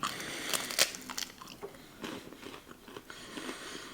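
Close, quiet crunching and chewing of a dry, crisp whole-grain rice snack, with sharp bites at first and then softer, irregular munching.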